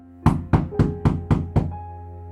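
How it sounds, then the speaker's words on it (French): Six firm knocks land on a wooden door at an even, unhurried pace, close and resonant, with nothing else heard around them. "Saint Nicolas s'avança et frappa à la porte."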